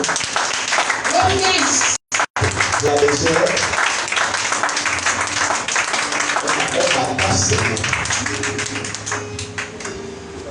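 A church congregation claps and cheers loudly and continuously, with a voice speaking in French over the applause.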